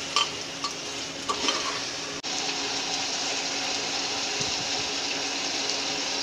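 Aloo tinde sabzi being stirred in a pan gives a steady wet sizzle with scraping stirs near the start, close and even, with a brief dropout partway through and no voices.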